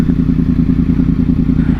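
Older-generation Yamaha R1 sport bike passing on the road, heard as a loud, close, pulsing engine rumble over heavy wind buffeting.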